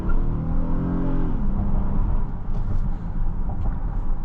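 Steady engine and road rumble inside a 2023 Honda Odyssey Elite minivan on a test drive, with a rising then settling engine tone early on and continuous tire noise throughout.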